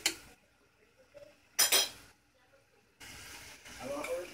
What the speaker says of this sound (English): this is what we call stir fry.